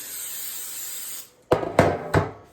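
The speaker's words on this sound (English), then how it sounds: "We are going to spray it with some of my nonstick spray." A continuous hiss of nonstick cooking spray onto a pan lasts about a second, then three short bursts follow in quick succession, close and fairly loud.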